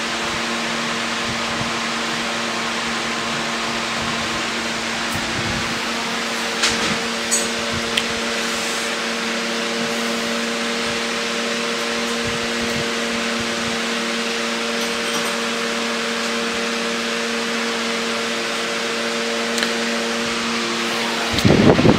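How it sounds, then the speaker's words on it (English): Front wheel of a 2003 Honda CBR954RR spinning on a stand, giving a steady, loud mechanical whir with constant tonal hum that runs unchanged throughout, with a few faint clicks and no talking. "This wheel spins straight."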